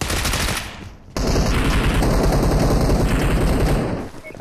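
Rapid automatic gunfire in a shooter video game, loud and close, rattling in dense bursts, stopping for a moment and then resuming in a long continuous volley that fades at the end.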